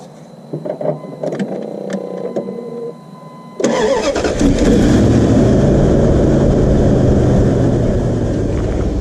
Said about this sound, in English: put this battery cable on, see if we can get it to turn over